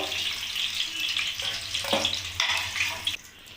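Chicken pieces frying in hot oil in a wok for chilli chicken, with a steady, close sizzle and crackle that swells and dips with stirring across the short stretch.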